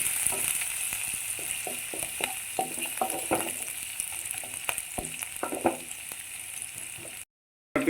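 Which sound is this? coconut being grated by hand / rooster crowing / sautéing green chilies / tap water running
sautéing green chilies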